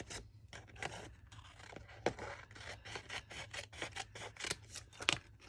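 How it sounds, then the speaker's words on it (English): Soft, close scissor snips and paper rustling repeat irregularly at low volume while card paper is cut, with a faint steady hum underneath. "you're going to take your scissors and cut right along"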